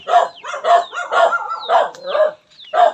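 A dog barks repeatedly in quick, close bursts, several sharp barks in a row with brief pauses between them.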